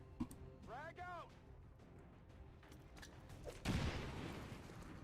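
A frag grenade goes off in the XCOM 2 strategy game as one loud, sudden, broadband blast about two-thirds of the way in, trailing into a rumbling decay, with a voice talking in the earlier part.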